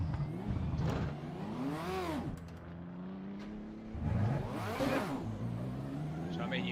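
Ferrari F40 engine in the Assetto Corsa racing game on the Nurburgring, heard as two rising-and-falling revving sweeps at moderate distance, with someone talking over them.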